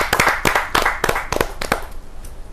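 A poetry gathering audience claps in a short burst, the sharp individual claps loud and close at first and then trailing off within about two seconds.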